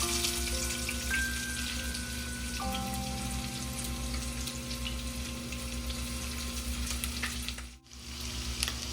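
Onions frying in a pan, a steady close sizzle and crackle running continuously, with faint utensil clinks and a brief dip near the end.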